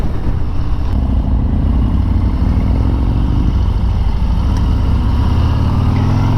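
A blacked-out 2021 Harley-Davidson CVO Road Glide motorcycle being ridden outdoors, its engine a loud, steady low rumble with constant wind-like roar and no voices.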